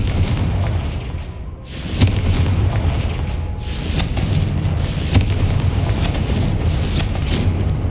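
Confringo fire spell explosions in the video game Hogwarts Legacy: two loud booming blasts a couple of seconds apart, each followed by a rumbling roar over steady background noise.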